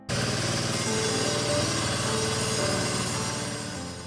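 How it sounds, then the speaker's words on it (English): An electrician's grinder cuts channels into house walls with a loud, steady, rough whine and drone that continues throughout, fading slightly at the end. "You can see the electrician here starting to cut into the walls using a grinder."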